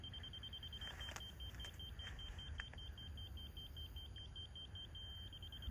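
Faint, rapid electronic beeping from a receiver repeats steadily over a constant low rumble of background noise, during layout checks at a pole barn construction site.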